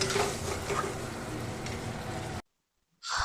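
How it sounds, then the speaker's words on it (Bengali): Prawn and okra curry is stir-fried in a pan with a dense, close sizzle and soft stirring scrapes, steady for about two seconds, then a brief silence before the sound returns. "আর এটাকে বেশ ভালো করে কষিয়ে নেব"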